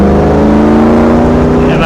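A Jeep CJ-7 with a 6.0 LS V8 and five-speed cruises a winding road, its engine a loud, steady low rumble with a thick harmonic drone heard up close from the cabin.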